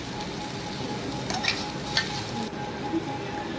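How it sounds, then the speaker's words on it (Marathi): Fresh spinach tumbles into a pan of fried spices for paneer bhaji, setting off a steady close sizzle, with a few sharper bursts and scrapes as it is stirred in. "आता मी पालक टाकून देत आहे."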